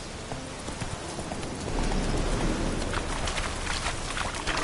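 Horse hooves clip-clop steadily on a mount in The Witcher video game, a continuous close rhythm that grows slightly louder midway, with no talking over it.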